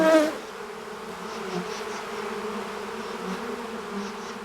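Worker honey bees buzzing among nectar-rich flowers, a steady droning hum with several overlapping wingbeat tones, close and continuous with no talk.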